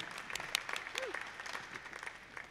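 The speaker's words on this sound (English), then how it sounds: "Now you can clap, Ezra." Light, scattered clapping comes from a small audience at a tech conference talk. It is faint and brief, with a few uneven claps over a quiet room.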